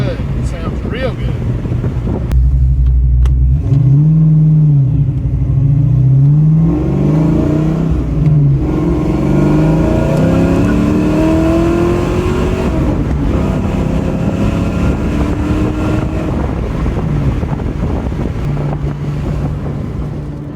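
A Fox Body Mustang with a 351 V8 and a new off-road H-pipe exhaust revs loudly, a deep engine roar rising and falling with wind noise buffeting the microphone.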